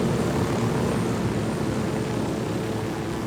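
A helicopter flies in the video game Ghost Recon Wildlands, a steady loud droning rotor and engine roar that holds constant throughout with no talk.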